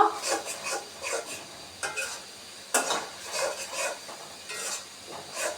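Spice paste being stir-fried in a pan for a Bangladeshi chicken bhuna, with steady sizzling, a spatula scraping and stirring in repeated strokes, and a few sharp clinks against the pan, close and alone without talk.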